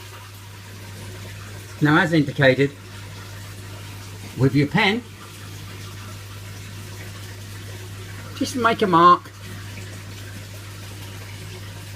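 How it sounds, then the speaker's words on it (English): Water pours steadily while an aquarium is refilled with about 200 litres through an FX6 canister filter, a constant wash with a low hum beneath it, heard under someone talking in short bursts. "Hope you can hear me with the amount of water noise from the FX6"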